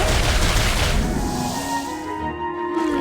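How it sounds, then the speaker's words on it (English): Video game firecrackers and fireworks: a dense burst of crackling pops and booms fills the first second, then fades into a ringing, hissing tail. "Crackers and fireworks!"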